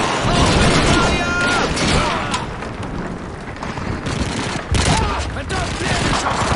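Dense gunfire and explosions from a World War II battle in Call of Duty 2, a continuous loud barrage of rifle and machine-gun bursts with booms, shouted voices mixed in.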